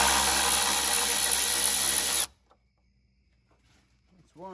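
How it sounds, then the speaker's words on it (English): An electric ratchet spinning out a T25 bolt on a BMW 335i N54 during a radiator replacement gives one loud, steady whirring run of about two seconds, close by. The tool then cuts off into near silence with faint handling noises. "I love this electric ratchet, by the way. Highly recommend the tool."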